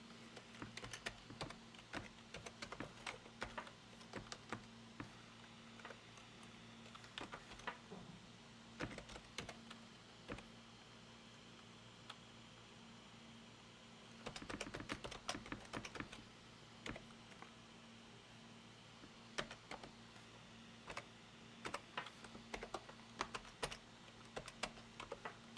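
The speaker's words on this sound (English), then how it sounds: "So I'm going to type that in." Steady computer keyboard typing, a web address being keyed in, with clustered clicks and brief pauses, fairly quiet and close, over a faint constant electrical hum; no one speaks.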